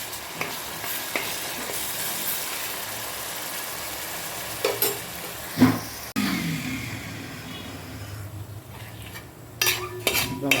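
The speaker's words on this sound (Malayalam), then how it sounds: "എന്നിട്ട് ഇതൊന്ന് നമുക്ക് വഴറ്റി കൊടുക്കണം." Crushed paste sautéing in coconut oil for a healthy Kerala-style chicken curry, with steady sizzling frying, occasional scrapes and clinks of a stirring spoon against the pan, and a louder clatter midway.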